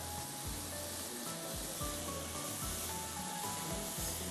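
Sugar and condensed milk roast in a pan with a soft, steady sizzle and faint crackling, quiet and close, with no one talking.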